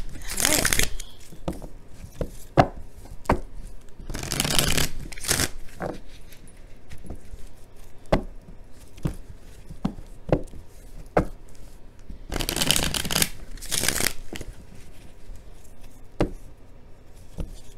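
A deck of cards being shuffled by hand for a tarot love reading, with bursts of riffling and sharp tapping of cards against a surface, close and intermittent, alongside occasional talking.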